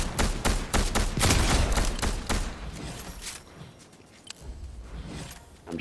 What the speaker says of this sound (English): Barry, we're getting shot from behind you